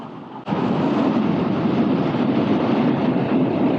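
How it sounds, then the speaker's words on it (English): Heavy, steady wind roar buffets a motorcycle helmet at speed on a BMW R nineT, cutting in abruptly after a brief quieter moment and staying loud and constant. "I definitely have to do something about the wind noise"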